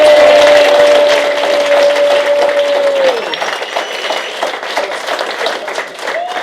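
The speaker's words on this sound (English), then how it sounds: "Everybody give Pedro a nice big round of applause" An audience at a comedy show breaks into loud, sustained applause with crowd noise, heard under a steady tone at first, then continuing as thinner clapping.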